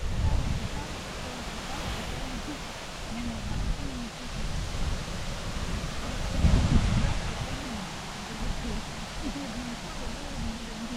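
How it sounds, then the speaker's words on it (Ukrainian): Steady roar of strong wind buffeting the microphone in a forest, with gusts swelling and fading over the whole stretch, loud and close. "Такий вітер здійнявся, жах."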